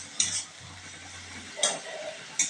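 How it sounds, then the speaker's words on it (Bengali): Egg soup being stirred in a pan after salt goes in, a few short scraping strokes of a utensil close by, with a faint background hum and no talking. "দিয়ে খুব ভালোভাবে নেড়ে চেড়ে নিতে হবে"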